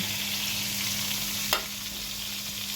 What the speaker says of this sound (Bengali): আমি মশলা কষিয়ে হলুদ মরিচ কষিয়ে করলাটা আর আলুটা কুচিয়ে নিচ্ছি